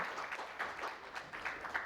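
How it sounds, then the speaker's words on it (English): An audience at an insurance industry panel claps briskly as a panelist joins the stage, a short burst of even, continuous clapping with no speech. "can we have a huge round of applause for him?"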